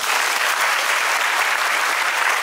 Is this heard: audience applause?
yes